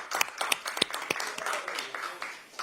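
Light, scattered clapping from a small audience at a Democratic Party talent recruitment ceremony in Korea, several sharp claps standing out over a thin patter that tapers off within a few seconds.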